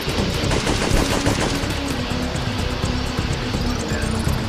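Rapid bursts of gunfire from a weapon in Syphon Filter 3 rattle on continuously, loud and close, over a dense low background of game noise.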